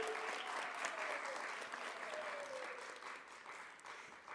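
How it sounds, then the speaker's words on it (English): Warm applause from the audience at an honors program awards ceremony in a proscenium theatre, continuous and fairly distant, with a faint voice speaking beneath it. "Give them a warm round of applause."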